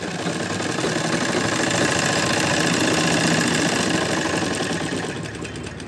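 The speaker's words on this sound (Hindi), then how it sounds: "मैं आपको सिलाई लगा के बता देती हूँ खुलने के बाद कैसा रहेगा" A sewing machine runs steadily, stitching two pieces of cloth for magaji piping, a dense mechanical whirr that holds at an even level for several seconds with no voices over it.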